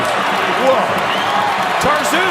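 A basketball arena crowd in a college game between Arizona and USC roars and cheers in a sustained, loud wash of noise, with a commentator talking over it.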